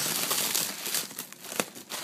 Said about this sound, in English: And now I'm unwrapping it.